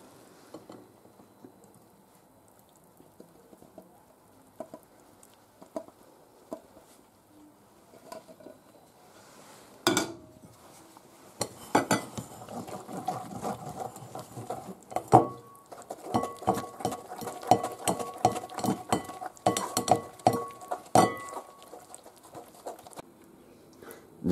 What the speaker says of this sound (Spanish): ahora lo tenemos que pasar por un colador